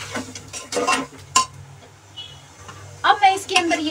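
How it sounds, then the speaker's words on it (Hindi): A spoon scrapes and clinks against a pan while pav bhaji vegetables with chilli and salt are stirred. The strokes come in a few sharp bursts with short pauses between them, close by, and a voice talks quietly underneath. "और इसे अच्छे से मिक्स करूंगी।"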